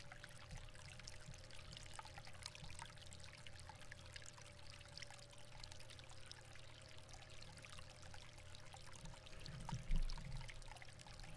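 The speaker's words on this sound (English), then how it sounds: "There's a lot of water." Steady pouring and trickling water in the Agatha Christie ABC Murders video game, a continuous quiet stream with a low hum beneath and a brief swell near the end, no voices.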